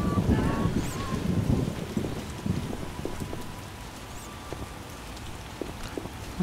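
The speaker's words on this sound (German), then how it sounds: "Oh, es regnet schon eine ganze Weile." Steady rain falls in The Witcher video game, a soft continuous patter with scattered drop hits and a low rumbling wash underneath, quiet and unbroken with no talk.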